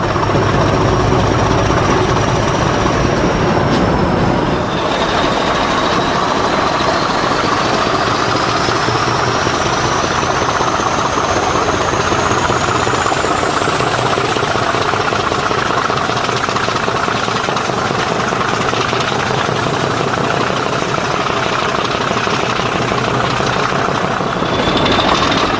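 A loud, throbbing Class 50 diesel locomotive engine runs steadily as it departs Kidderminster on the Severn Valley Railway, with a high whine rising gradually in pitch over a deep rumble throughout.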